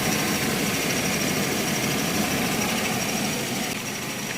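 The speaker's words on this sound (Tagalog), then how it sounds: "Ang ganda ng makina." A steady engine idles nearby, a constant low rumble with a faint vibrating hum, unbroken and fairly loud with no voices.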